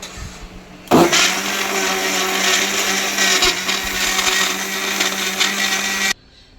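An electric blender whirs loudly as it blends a grape juice shake with sugar, switching on abruptly and running steadily for about five seconds before cutting off.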